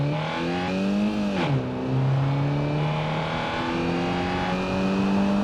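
A BMW E30 accelerating in the BeamNG.drive driving game, a loud steady engine note that climbs in pitch, dips briefly at a gear change, then keeps rising through the rev range.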